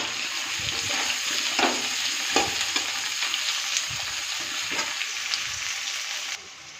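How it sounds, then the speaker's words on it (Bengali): Potatoes and onion fry in a pan while being stirred, a dense close sizzle punctuated by repeated scraping strokes of a spatula at an uneven rhythm, easing slightly at the very end. "এই যে আলুটা ভাজা হচ্ছে, এবার এর মধ্যে দিয়ে দেবো পেঁয়াজটা"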